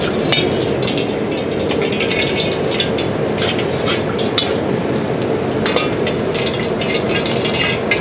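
Garlic frying in oil in a wok over medium heat gives a steady, close, loud sizzle with crackling pops and an occasional light clink.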